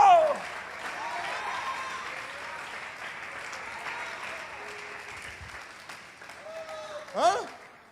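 A church congregation claps steadily, a dense wash of applause from many hands, with a voice calling out over it near the start and again at the end.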